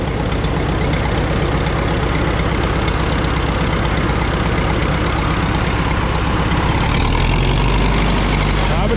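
A truck-like engine runs loud and close in a steady, rumbling drone that shifts in tone near the end, as if the throttle is brought up a little.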